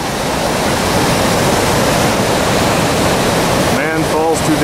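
The Tahquamenon River rushes at flood stage in a loud, constant roar of churning water, close and unbroken, with a voice briefly rising over the torrent near the end.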